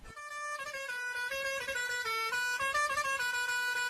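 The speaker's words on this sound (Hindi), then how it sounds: "तुम्हें हॉर्न की आवाज हाई पिच में सुनाई देती है" A steady high-pitched car horn sounds continuously for several seconds, loud and close, with a slight wavering in pitch.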